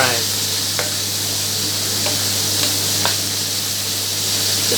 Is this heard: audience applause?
no